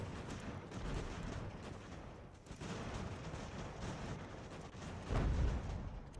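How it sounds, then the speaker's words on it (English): Booming cannon fire from the Ultimate General: American Revolution battle game during a flank attack, a continuous rumble of blasts with a heavier thump near the end, no talking. "I love seeing our cannons hitting the enemy"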